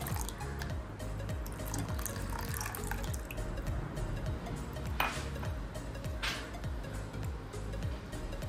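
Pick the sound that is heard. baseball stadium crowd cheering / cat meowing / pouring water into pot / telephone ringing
pouring water into pot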